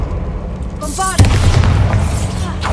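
The Bombarda spell goes off in the video game Hogwarts Legacy as a sudden loud boom, preceded by a brief shimmering magical chime, with a rumbling tail that fades over a couple of seconds.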